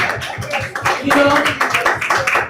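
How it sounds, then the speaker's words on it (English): Audience clapping at a film cast event, a short uneven burst of close, loud claps with some voices mixed in. "Give him a round of applause."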